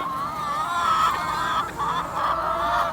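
Hens cluck and chatter close by on a small egg farm, several birds calling in overlapping, wavering tones with a steady murmur of flock noise behind them.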